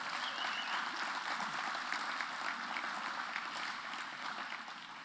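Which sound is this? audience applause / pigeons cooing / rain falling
audience applause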